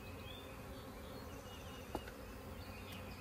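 A calm honey bee swarm being hived drones in a steady, continuous buzz from many insects close by, with one brief louder tap near the middle and no talking.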